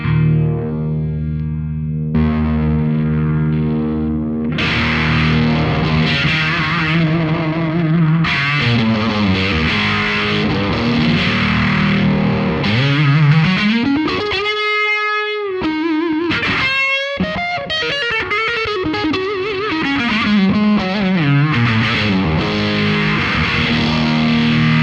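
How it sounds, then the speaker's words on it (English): Electric guitar riffs played through a Boss MD-200 modulation pedal with its fuzz switched on, giving thick, gritty, swirling tones with bending, sliding notes and sustained chords, loud and continuous throughout. "Using the parameter knobs, I can actually engage a fuzz"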